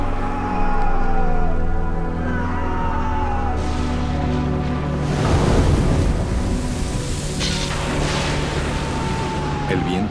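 A stormy sea: steady roaring wind and crashing waves, with swells of surf rising midway, loud and continuous, with a faint voice and soft musical tones underneath.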